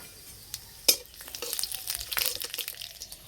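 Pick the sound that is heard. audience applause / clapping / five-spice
five-spice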